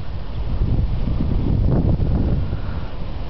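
Strong storm wind gusts buffet the microphone in South Bend, Indiana, a loud, continuous low roaring rumble that swells and surges through the whole stretch with no voices.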